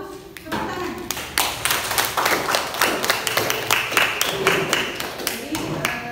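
Students in an accounting classroom clap together, a burst of brisk, dense applause that starts after a second and carries on steadily, fairly close, with a few voices mixed in.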